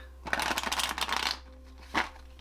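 Tarot cards of a flexible, bendable deck being shuffled by hand, a dense riffling burst lasting about a second, followed by a short second flick, close and moderately loud.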